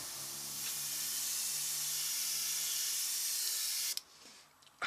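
Compressor-fed airbrush test-spraying paint while building a Tamiya 1:35 T-55A tank model: a steady, close airy hiss holding for about four seconds, then cutting off, followed by a couple of faint clicks.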